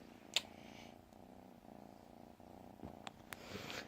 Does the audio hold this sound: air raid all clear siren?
no